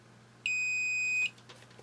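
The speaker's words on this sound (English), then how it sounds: "Right now, we're in beep beep mode." A multimeter in continuity mode gives a single short, pure electronic beep of under a second while testing parts on a Game Boy Advance SP motherboard, faint and alone in a quiet room.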